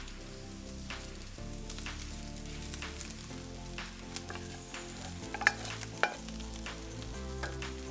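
Fried rice with scrambled egg being stirred and tossed in a hot pan, a steady close sizzle and frying crackle with scraping stir strokes and a couple of sharper clinks, no talk.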